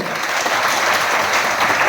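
Loud, sustained applause from a women's audience at a DXN business meeting, a dense, even wash of clapping hands filling the whole stretch with no voices rising above it.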